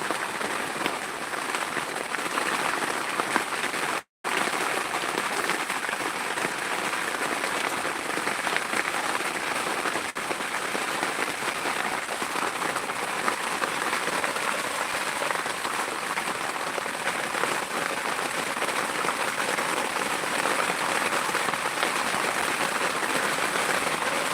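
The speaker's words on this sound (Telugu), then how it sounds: "భారీ వర్షం అయితే వస్తుంది ఇక్కడ" Heavy rain drums on a tarpaulin in a dense, unbroken roar that stays loud and close throughout, with a single brief dropout near the start.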